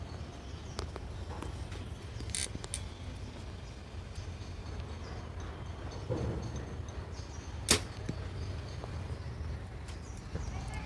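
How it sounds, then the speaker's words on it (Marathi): A toy arrow is fired from a trigger-release launcher, giving one sharp, distinct snap that stands out from quiet room noise amid scattered soft clicks and handling sounds. "आता एक ॲरो मी मारला"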